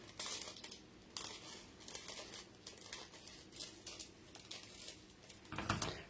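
Sheet of aluminium foil being cut down and crinkled by hand, a close run of papery crackles and rustles with brief louder crunches, continuing without pause.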